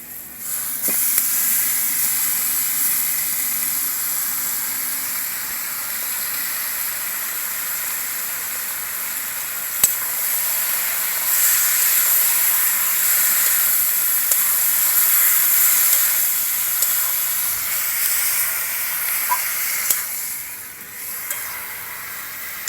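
Hilsa fish head frying in a pan with green chilies and onions as taro stems are added, a steady loud sizzle and hiss that carries on without a break, with no voices.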